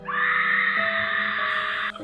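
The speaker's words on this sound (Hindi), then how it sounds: "और तभी कुएं से एक भयंकर चीख गूंजी" A long, loud, tonal scream carries a ringing, echoey quality, as if rising from a well in a horror scene, then cuts off sharply near the end.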